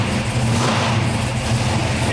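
A 1972 Hemi Cuda V8 with a shaker hood scoop revs loud and close. It gives a deep, rumbling, steady roar that swells slightly, with faint voices in the background.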